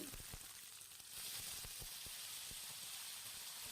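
Spices tempering in hot oil for drumstick sambar give a steady, faint sizzle and hiss with scattered small pops throughout, rising slightly after the first second.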